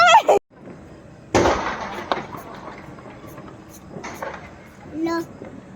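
Diwali firecrackers bursting outdoors: a sharp loud bang followed by a few scattered pops and crackles, with people talking nearby.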